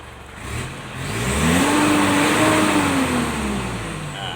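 A Mitsubishi Triton with a DI-D 4D56 common rail diesel engine revs up from idle, its pitch climbing and holding before easing back down, close and steady with no talking; the truck has fault code P0089.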